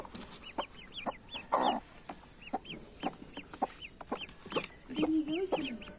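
Ducklings peep in quick, high, repeated calls with a few lower clucking sounds mixed in, moderately close over a quiet farmyard background.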